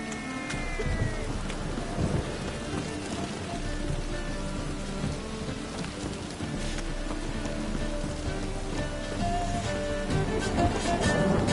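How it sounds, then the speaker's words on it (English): A thunderstorm in The Witcher 3 on PS4 Pro gives steady rain hiss with low rolling thunder rumbling underneath, a dense, continuous wash of weather at moderate level with no talking. "It's a storm, damn it."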